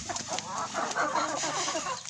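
A backyard laying hen with a battered comb clucks in a short, steady run of throaty calls, close by with faint farmyard noise behind.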